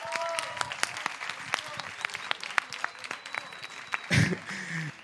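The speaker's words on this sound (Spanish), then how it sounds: "Un fuerte aplauso, por favor." A festival crowd applauds as band musicians are introduced, giving steady clapping throughout with sharp individual claps standing out. Someone speaks briefly near the end.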